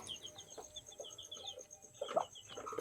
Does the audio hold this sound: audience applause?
no